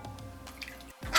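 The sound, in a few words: water poured into cornstarch and sugar mix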